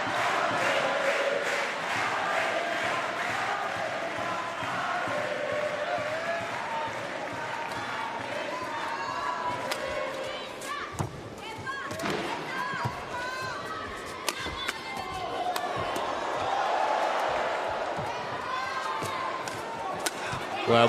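A large arena crowd at a para badminton standing men's singles medal match cheers and roars loudly, with shuttle smashes and footfalls cracking through and a commentator's voice running over it.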